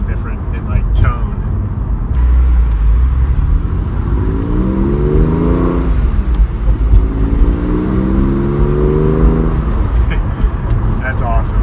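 Porsche 911 fitted with a Fister D aftermarket exhaust revs loudly and close, rising and falling through several sweeping climbs in pitch over a steady engine drone.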